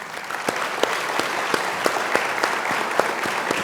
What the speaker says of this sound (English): So I want to give you to give yourselves a round of applause